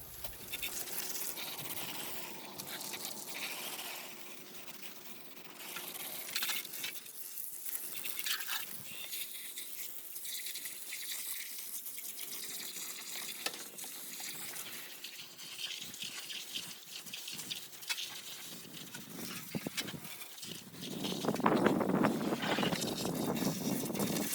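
A hose nozzle sprays water over the deck of a John Deere X350 mower, a loud hissing wash that varies as the spray moves and grows harsher and louder near the end.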